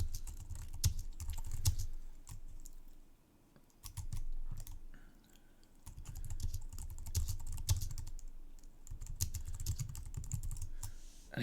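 Computer keyboard typing in quick irregular bursts of key clicks, with short pauses between runs and a low background hum, no talking.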